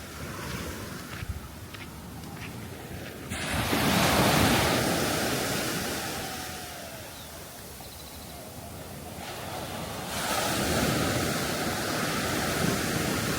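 Ocean waves roll onto Les Salines beach in Martinique, a continuous surf wash with two louder breaking swells building and receding, mixed with wind noise across the microphone and no talking.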